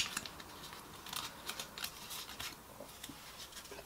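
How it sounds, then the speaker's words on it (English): An alcohol wipe packet ripped open by hand, a quick series of faint, crisp paper-foil crinkles and tearing snaps close to the mic, quiet and with no talking. "I'll rip it open."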